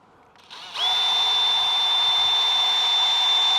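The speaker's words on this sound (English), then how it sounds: "I'm going to have to use this one first to drill through it" A power drill spins up from a brief low whir into a steady, high, whining bore through an exterior house wall, running loud and unbroken at close range with no voices.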